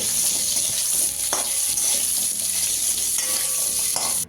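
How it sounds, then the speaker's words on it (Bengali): Pumpkin pieces frying in a hot pan for a vegetarian mixed vegetable dish, a loud, close, continuous sizzle with a few sharp stirring scrapes and clicks, no voices. "প্রথমে অ্যাড করছি কুমড়ো কুমড়োটা দিয়ে একটু ভালো করে ভেজে নেব"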